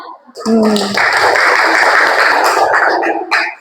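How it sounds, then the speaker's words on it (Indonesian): Children in a classroom break into a burst of clapping, loud and close, with a voice speaking briefly before the applause swells and fades. "Ya, tepuk tangan boleh. Mana tepuk tangannya?"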